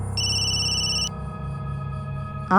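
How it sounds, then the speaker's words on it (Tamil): A mobile phone rings with a steady electronic tone that stops after about a second, leaving quiet background hum before another sound cuts in. "என்ன கல்பனா ஃபோன் பண்றா?"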